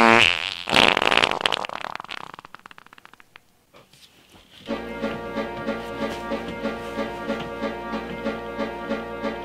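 A loud, raspy fart bursts out first, then fades into silence before an electric guitar plays a repeated chord strum.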